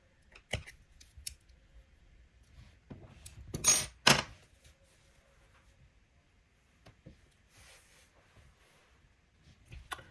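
Scissors snip through yarn during a crochet project, giving two quick crisp cuts close by in a quiet room, with faint handling rustles before and after.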